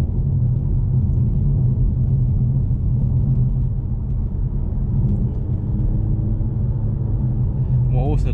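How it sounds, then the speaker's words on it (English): A 2012 Mercedes C63 AMG W204 engine burbles at low RPM while pootling along, a deep, steady, rumbling drone heard from inside the car, continuous and fairly loud. "You have a very dirty sound when you're like pootling along at low RPM like this."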